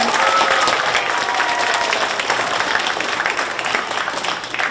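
Theater audience applauding after a request to thank the production's helpers, a dense, steady wash of many hands clapping at close range for several seconds, fading slightly at the end.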